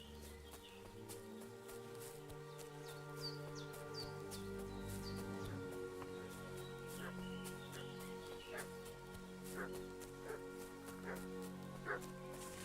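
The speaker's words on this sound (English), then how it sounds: "What's that dog making such a fuss about?" A dog barks repeatedly in a video game, short sharp yaps scattered over a steady bed of background music and ambience at moderate loudness.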